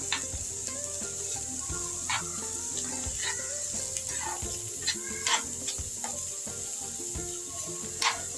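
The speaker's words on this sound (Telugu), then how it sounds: "లైట్గా ఫ్రై చేస్తాం. ఆనియన్, పచ్చిమిర్చి" Onion and green chillies frying lightly in a pan with oil, a continuous sizzle broken by intermittent scraping and stirring clatter, fairly close and without talk.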